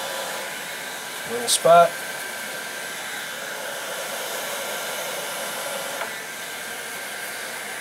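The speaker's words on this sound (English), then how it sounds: "Now you'll notice I do a lot of this with the heat gun," A heat gun blows a steady, even airflow at close range while Monokote film covering is reheated on a model plane's wing tip, with brief spoken words early on over the constant hiss.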